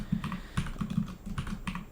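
Fast, uneven typing on a computer keyboard during React coding work, close and clear with clustered bursts of key clacks and no talking.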